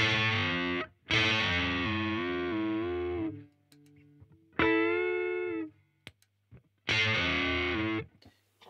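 Electric guitar through a GimpFX "EATED ALL YOR NOYZ" fuzz pedal rings out in three sustained, harsh chords separated by brief pauses, loud and close.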